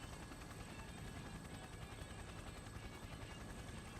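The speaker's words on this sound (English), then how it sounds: "the helicopter does descend close enough to the roof of Junes" A helicopter in the fighting game Persona 4 Arena Ultimax whirs steadily as it descends near the Junes rooftop, a continuous rotor drone with a faint rattling texture and no voices.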